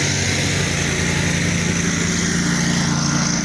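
Lawn mower grinding and mulching fallen autumn leaves during a last fall mowing, a steady close engine drone with constant rough whirring, no talk.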